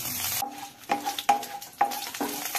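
Chilli, cumin, bay leaf and whole garam masala sizzle in hot mustard oil, with a bright continuous frying hiss broken by several distinct clanking stirs of a utensil against the pan.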